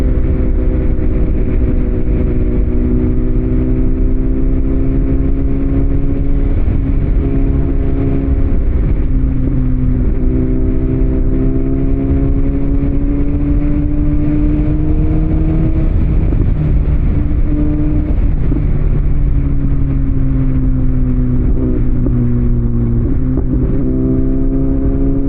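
A BMW S1000 XR motorcycle cruising a long straight road, its engine droning steadily with gentle pitch rises and dips as the throttle shifts, under constant loud wind rush and no talking.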